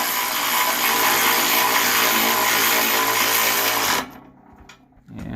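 A Kymo ratchet spins steadily, driving a bolt home on a Cub Crawler winch bumper with a loud, even buzzing whir for about four seconds. It stops abruptly, leaving faint clicks and a short final burst.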